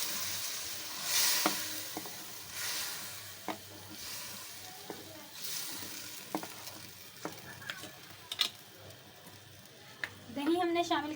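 Yogurt is stirred into sizzling chicken karahi, with a steady frying hiss under scraping spoon strokes and clinks, while a voice speaks over the cooking.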